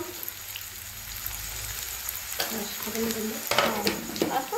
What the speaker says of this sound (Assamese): এয়া তেলত দিছে মায়ে পিঁয়াজ, তেজপাত আৰু কেঁচা জলকীয়াখিনি তেলতে দি দিছে